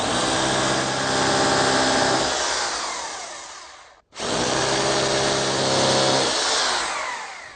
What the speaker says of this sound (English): Your first step is to drill into the bricks and install your wall plug.